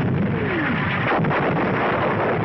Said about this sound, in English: A direct hit on an enemy 88mm gun position.